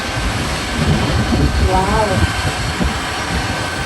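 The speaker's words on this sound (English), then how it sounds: "Wow, it's an aeroplane." A white aeroplane passes overhead with a broad, steady roar of jet noise spread across the whole clip, while a man exclaims over it.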